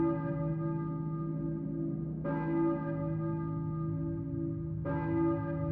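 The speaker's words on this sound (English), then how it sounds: "I hear a church bell." A church bell tolling in the horror video game Silent Hill, two resonant strikes about two and a half seconds apart, each ringing out in a long sustained hum over a low background drone.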